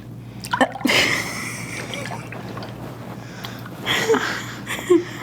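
Water splashes and streams while sugar body scrub is rinsed off skin, with a couple of louder splashing bursts against a steady running-water wash, close and alone.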